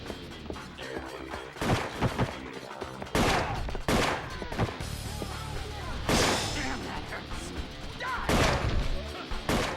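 Gunfire in the Yakuza video game bangs out in repeated loud, sharp bursts over a dense action soundtrack, with several separate volleys spread across the scene.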